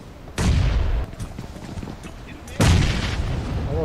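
A grenade explosion in PUBG Mobile, a loud booming blast followed by a second heavy burst a couple of seconds later, with in-game gunfire and a voice in the background.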